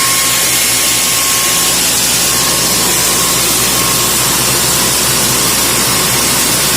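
A homemade seed cleaner runs steadily, its fan sucking and blowing air in a loud, continuous broadband roar with a faint steady whine, close by and without talk.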